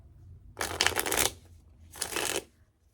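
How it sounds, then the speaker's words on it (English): Two bursts of rapid riffle shuffling, a longer one followed by a shorter one after a brief pause, crisp and close with no talking. "Let me shuffle these. Wish I had another deck with me right now."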